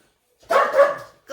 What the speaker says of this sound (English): Even the dogs were very sad, as you can hear.